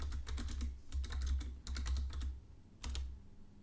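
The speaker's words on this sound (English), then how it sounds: "And now type the correct password." Keys tapped in quick bursts on a computer keyboard while a password is entered into a simple Python login program, close and clear with short pauses between runs of strokes.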